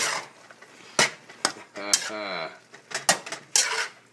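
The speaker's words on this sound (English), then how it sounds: "Put in the last of the lemongrass and give it a toss through" Utensils clink and scrape against a bowl while lemongrass is tossed through Thai larb for spicy lettuce wraps, with several sharp metallic knocks spread over a few seconds and a brief voice in between.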